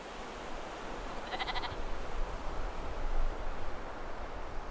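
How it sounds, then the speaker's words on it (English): An Icelandic sheep gives a single short bleat that rises briefly out of a steady outdoor wind-like hiss, fairly distant and soft. "the Icelandic sheep can be spoken about as an indigenous species unto itself"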